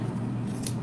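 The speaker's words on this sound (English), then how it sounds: "it's hard to cut through this yarn with these scissors" Scissors snipping through thick yarn for a pom-pom sheep craft, one short close crunchy cut over a low steady background hum.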